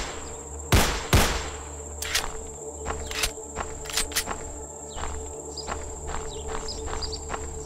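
Gunfire in a horror video game, a few sharp loud shots at the start followed by scattered quieter bangs and clicks over a steady ambient hum.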